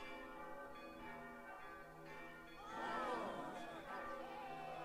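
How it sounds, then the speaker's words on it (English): Bells ring out in a Fairy Tail anime episode, a tonal peal that swells midway over a sustained musical bed, with faint crowd-like chatter underneath. "Sounds like bells."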